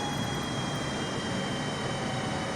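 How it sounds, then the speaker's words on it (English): Boeing 747-8 climbing out after takeoff from Sydney as its landing gear retracts, heard from the cabin as a dense, steady roar of engines and airflow with a faint tonal whine, no talk. "the wheels are going back up into the plane"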